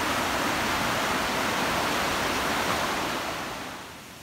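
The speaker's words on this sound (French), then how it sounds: "il y a des rapides un peu plus rapides que ceux qu'on a fait en canoë hier" River rapids rushing in Mont-Tremblant national park, a loud continuous broadband roar of churning water heard close up, fading slightly at the end.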